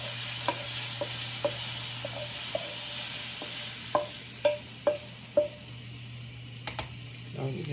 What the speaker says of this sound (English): we're going to scrape it all over into our plate over here that we have